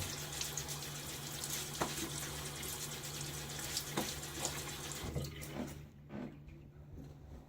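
Tap water runs steadily into a sink while a face is wetted during a shave, a continuous close splashing hiss with a few small knocks, fading out near the end.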